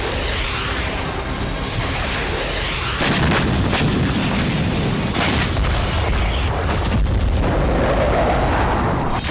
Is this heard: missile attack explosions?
yes